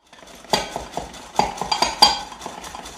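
A whisk beats a mixture in a bowl until it begins to thicken, giving a nearby run of quick, light metallic clinks and scrapes with a few louder taps against the bowl.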